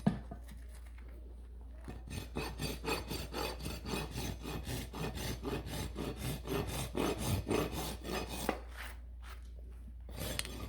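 A rasp files a horse's hoof during trimming: rhythmic rough scraping strokes, near and fairly quiet, repeat steadily for several seconds with brief pauses at the start and near the end, and no talking.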